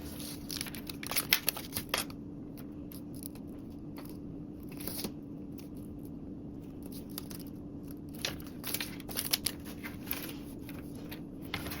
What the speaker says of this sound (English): take our double-sided tape and put it on the top edge and the bottom edge of our zipper tape